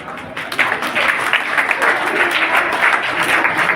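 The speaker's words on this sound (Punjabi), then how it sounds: "ਤਾਲੀਆਂ ਵਜਾਈ ਚਲੋ" Steady audience applause at a birthday celebration program held in Garhpadhana village, sustained clapping from a crowd throughout with a slight swell after the start.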